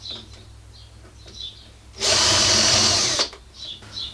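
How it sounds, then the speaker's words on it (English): A power drill bores pilot holes into a wooden worktop, one loud steady burst of about a second lasting up close, with quiet room sound and faint birdsong before and after. "And then drill pilot holes."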